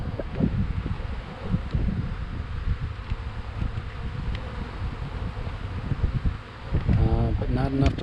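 Honey bees buzzing from an opened package bee cage during a spring hive installation, a steady close hum that persists throughout, with a voice talking over it near the end.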